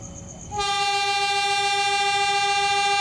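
Low rail rumble, then a train's horn blares in, loud and sustained, holding one steady chord to the end, as a train arrives at Cibatu station in Garut, Indonesia.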